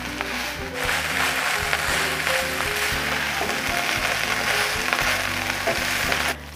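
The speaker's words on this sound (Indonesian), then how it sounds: "Karena dengan api kecil ya, dan diaduk terus sampai jadi serundeng." Serundeng, grated coconut for dendeng ragi, is stirred in a pan over low heat, giving steady close sizzling and frying crackle with repeated scraping stirs from two spatulas. No one speaks.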